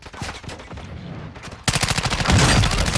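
Heavy video game gunfire erupts in a dense, rapid burst of shots that jumps sharply louder halfway through and keeps pounding close and loud, with no talk over it.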